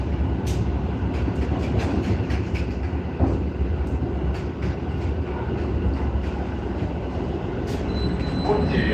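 A Moscow metro train running, with a loud continuous rumble of wheels on rails and repeated high metallic squeals cutting through, heard from inside the moving car.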